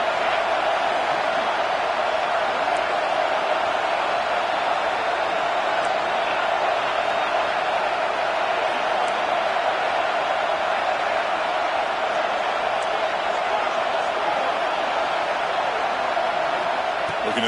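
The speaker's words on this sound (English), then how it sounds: "listen to this crowd noise. This stadium is vibrating." Steady, dense stadium crowd roar fills a football video game (Madden/College Football 25), a constant loud wash of noise with no breaks.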